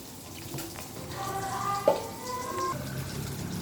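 Water is poured into a pan of anchovy kootu, a short soft splash and trickle that swells midway and then settles into a faint simmering wash, close by with no talking.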